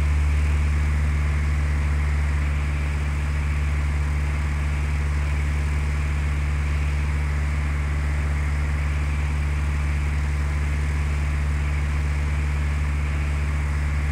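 Steady drone of a propeller airplane engine in flight in Microsoft Flight Simulator 2004, a constant low hum with no change in pitch or level, continuous and moderately loud with no talking.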